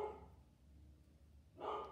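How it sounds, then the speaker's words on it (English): A dog barks twice indoors, a short bark at the start and another near the end, moderately close, with a quiet room in between. "my dog is still making a lot of noise"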